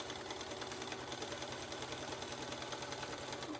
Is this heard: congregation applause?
no